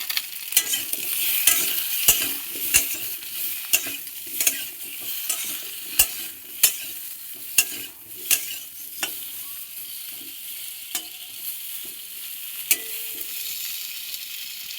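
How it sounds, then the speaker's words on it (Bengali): Potatoes with turmeric fry in oil in a pan while being stirred for a coriander chicken dish; a steady sizzle runs throughout, broken by regular sharp scrapes of the spatula against the pan. "আলুটা এখন 2-3 মিনিট ভাজতে হবে"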